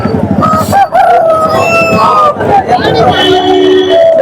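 A rooster crows loudly over a busy crowd of chattering voices at a roadside hen and sheep market, with other fowl clucking and calling in the background.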